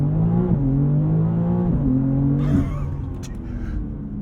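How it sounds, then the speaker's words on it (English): A BMW M3 CS launches hard under launch control from 0 to 60, its engine note climbing loud and close through rapid upshifts. After the last shift the revs ease into a rushing roar. "holding my foot on the brake, pinning the throttle, preparing launch control, it's ready"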